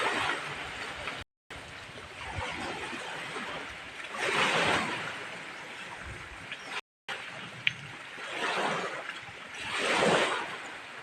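Seaside waves and wind on a Philippine shore, a steady hiss of breeze with broad surges of surf rolling in and washing out every few seconds, near and moderately loud, with no voices.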